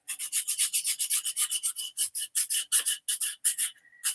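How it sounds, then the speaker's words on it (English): Steady back-and-forth rasping of a nail file sanding a cutting board, quick even strokes repeating close up with a brief pause near the end. "I'm just sanding it down with a nail file."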